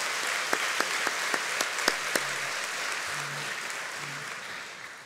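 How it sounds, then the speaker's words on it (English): Audience applause at a chamber of commerce annual meeting, a crowd clapping steadily with a few sharper individual claps standing out early on, fading slightly toward the end. "How about a round of applause for all of our friends standing?"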